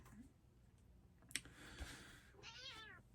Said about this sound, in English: I have an upset kitty. She wants attention.